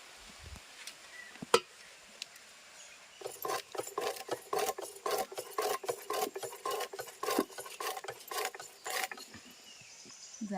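Rapid rhythmic scraping of a large fish being cleaned in a village kitchen, bursts of harsh raspy strokes after a single knock, close and clear with no talking.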